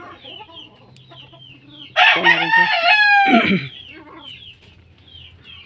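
A mother hen clucks and squawks close by in one loud burst lasting under two seconds, set between quieter stretches of soft chicken chatter with brief talk nearby.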